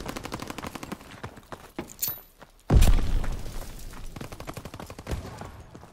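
A WWII video game battle on the Market Garden map, with sustained rattling gunfire and scattered shots, then a heavy boom that rolls into a loud, continuing volley.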